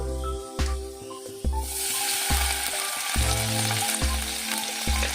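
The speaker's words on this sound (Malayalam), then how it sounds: "ഇഞ്ചിയും വെളുത്തുള്ളി നന്നായി മൂത്ത് വരുന്ന സമയത്ത് ലോ ഫ്ലെയിമിലാക്കുക. എന്നിട്ട് നമ്മൾ ഇതിലേക്ക് 2 ടീസ്പൂൺ വിനാഗിരി ചേർത്ത് കൊടുക്കാം" Ginger and garlic frying in a pan for vegetable manchurian gravy, with vinegar poured in: a quiet fry that suddenly swells into a loud, hissing sizzle partway through, over a low rhythmic hum.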